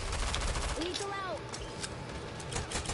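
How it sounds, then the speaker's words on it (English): Rapid video game gunfire rattles in dense bursts during a shootout, loud and continuous in a busy mix with a faint voice under it. "He's shooting him right now"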